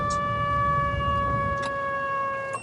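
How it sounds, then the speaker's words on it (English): A tornado siren wail holds one sustained tone throughout, loud and continuous, with a few faint clicks over low rumbling background noise. "we got the tornado siren on"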